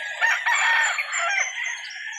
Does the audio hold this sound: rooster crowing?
yes